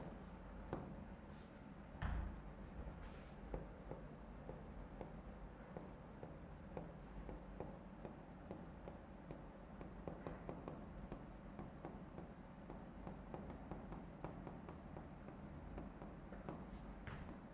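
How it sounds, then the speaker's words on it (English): Someone writes on a board during a lecture, making quiet, continuous scratchy strokes with small taps and pauses. The sound stays faint and steady over a long stretch. "I am gonna write it"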